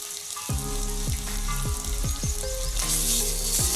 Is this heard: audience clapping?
no